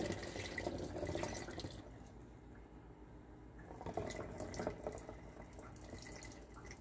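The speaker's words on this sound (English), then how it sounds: "I'm just going to put half of the juice in and going to pour the turmeric, lemon, and ginger" Turmeric, lemon and ginger juice poured into a container, a soft liquid splash and trickle at close range that runs steadily for a few seconds, then lightens to faint drips and handling noise.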